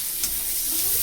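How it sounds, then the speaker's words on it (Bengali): Chopped onions fry in a pan with a steady, close sizzle and occasional stirring, a continuous hiss running through the short stretch without talk. "পেঁয়াজ কুচনো ভালো করে ভেজে নেব"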